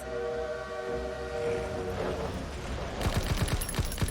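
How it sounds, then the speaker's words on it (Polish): A train pulling away in a World War II shooter game, with a steady whistle tone giving way to heavy rhythmic chuffing and gunfire-like bursts, loud and close. "Pociąg odjeżdża! Nie możemy dać mu uciec!"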